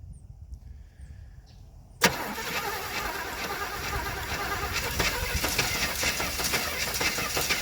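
A 4x4 Chevrolet Caprice project car's engine cranks and catches at once, bursting into a loud, rough running roar that holds steady and builds slightly, close by with no talking.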